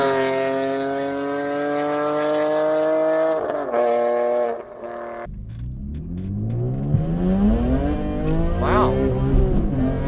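A BMW E46 M3 ZCP sports car on a race track, its engine holding a steady high-pitched drone before dropping off, then revving up again through rising sweeps, loud and close.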